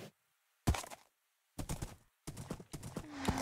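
Horse hooves clatter in quick bursts of clip-clop during horse jumping in the video game Minecraft, separated by abrupt silent gaps, with a faint neigh-like tone near the end.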